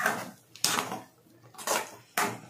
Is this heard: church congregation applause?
no